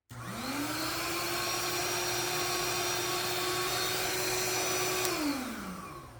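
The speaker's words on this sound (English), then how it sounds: "So what we got here is a mattress inflation pump." Electric mattress inflation pump whirs up to speed, holds a steady whining hum for several seconds, then winds down; close and continuous with no voices.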